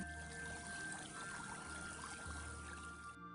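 Clear river water trickles and pours in open countryside, a faint, steady flowing sound with a soft pouring texture and a few thin tonal hums beneath it.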